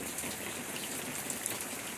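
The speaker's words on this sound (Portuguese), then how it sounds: "essa chuva que está caindo aqui hoje pela manhã" Morning rain falls steadily outdoors in a garden with a pomegranate tree, an even patter of drops on surfaces with a few closer individual drips and no voices.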